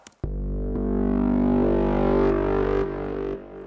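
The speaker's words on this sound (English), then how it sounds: "This one is parallel distortion." Low, subby synth bass with parallel distortion in Logic Pro X holds a thick, buzzing sustained note for about three seconds, loud and alone, then drops away in steps.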